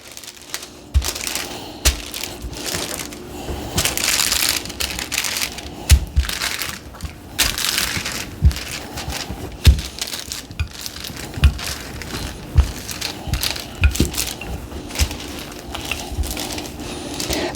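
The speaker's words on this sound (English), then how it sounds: "We need to roll out our dough or our shortbread to about 1/4 inch" A rolling pin works brown sugar shortbread dough on wax paper, giving repeated crinkling paper rustles and soft knocks in an uneven back-and-forth rhythm, close and fairly loud.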